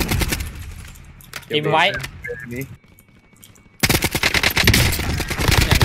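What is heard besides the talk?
An-94 rifle gunfire in video game Call of Duty Warzone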